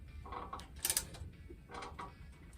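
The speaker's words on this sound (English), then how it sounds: "just a couple of 1/2 wrenches, and tighten it in place" Half-inch wrenches tighten the timing rod bracket on a Ford Model A front end, giving a few faint, brief metallic clicks and scrapes in a quiet workshop.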